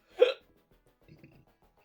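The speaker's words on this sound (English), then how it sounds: "Hiccups." A single loud hiccup bursts out near the mic after a bite of a fiery, spicy tart, followed by a brief faint murmur of voice.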